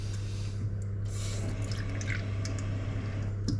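Water trickling and dripping steadily into an ice ball mold, a soft continuous pour under a low steady hum, no talking.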